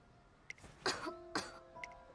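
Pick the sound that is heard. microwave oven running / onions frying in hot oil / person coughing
person coughing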